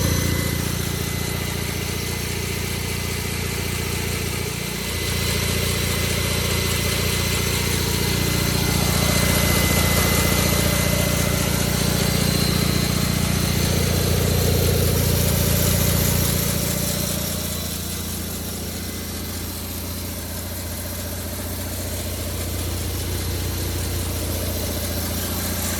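An engine idles after a starter generator install on a vehicle called Salvage, a steady close mechanical drone that swells midway, then settles lower and quieter, with no talk.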